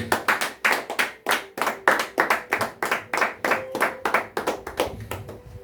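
A congregation at a church service claps in a steady, fast rhythm in acclamation of Jesus, sharp repeated hand claps close and loud, continuing throughout with a faint sung or held tone beneath.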